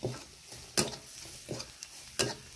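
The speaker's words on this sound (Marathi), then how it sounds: "मसाले चांगले परतून घेते" Pav bhaji masala spices being sautéed in a pan, a soft steady sizzle broken by a few sharp spoon-scraping stirs, close and fairly quiet with no talking.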